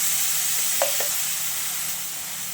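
A blended mixture for mango barfi sizzles steadily in a pan, with a couple of brief scraping clinks from a spatula as it is stirred.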